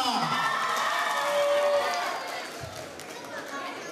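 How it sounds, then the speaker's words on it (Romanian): Audience at a high school freshman ball in Romania cheers and applauds, a dense wash of claps and shouts that swells, then thins and settles into lighter crowd noise. "Aplauze pentru Iasmina!"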